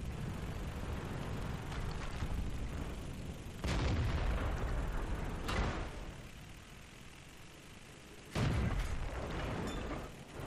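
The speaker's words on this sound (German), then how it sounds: "werde ich auf jeden Fall beschossen" A tank under fire in the World of Tanks video game, with three sharp booming impacts spaced a few seconds apart over a steady low engine rumble.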